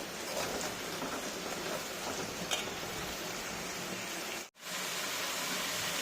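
Herbal hair oil boiling in a pan on the stove makes a steady, dense sizzling hiss like heavy rain, unbroken except for a brief dropout near the end.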